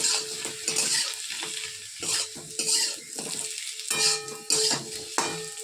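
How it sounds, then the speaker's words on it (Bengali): Potatoes sizzle and crackle in a hot pan while a utensil scrapes and stirs in repeated bursts, close and fairly loud. "আলুটা ভাজা করছি এখন"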